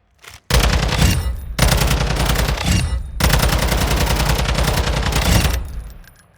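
Long, rapid bursts of automatic weapon fire from a Call of Duty gun, loud and close, with a short opening shot, then sustained rattling volleys separated by brief pauses, tailing off at the end.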